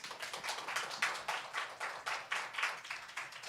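A church congregation claps in steady, rhythmic applause for the pastor's wife at a Christmas service, a dense run of even beats that carries on without any talk over it.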